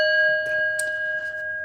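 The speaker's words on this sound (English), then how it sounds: "Just ring the bell" A single bell chimes once and then rings on as a long, steady tone that fades only slightly, heard close and alone without voices.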